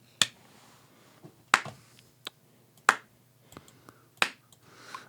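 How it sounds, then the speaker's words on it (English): Slow, evenly spaced hand claps marking a tempo around 88 beats per minute, five sharp close claps with a few softer taps between them in a quiet room. "So can you clap which tempo?"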